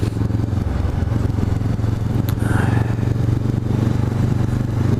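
A motorcycle engine suited to an A2 licence revs as the rider twists the throttle on a road ride, a steady loud drone with a rising pitch sweep midway, close and continuous under wind noise.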